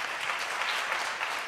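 A town hall meeting audience applauding Congressman Denny Heck, steady dense clapping from many hands that holds at an even level from start to finish with no talk over it.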